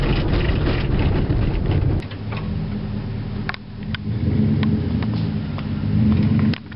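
Lifted truck with a V8 idling and rumbling up close, a deep steady throb that shifts in tone partway through, with a few scrapes and knocks around it.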